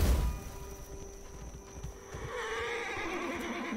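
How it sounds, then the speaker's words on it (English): Skeleton horses in a Wild West video game give a loud whinny up close, followed by softer snorting and clip-clopping hooves. "Bone horses, I think."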